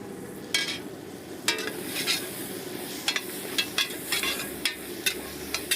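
Coriander, cinnamon and turmeric powders frying and being stirred in a pan, a soft steady sizzle broken by repeated sharp scrapes and clinks of the spoon against the pan.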